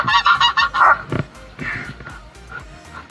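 Geese honk loudly in a rapid, overlapping series, with a few dog-like yips mixed in, close by and without talk.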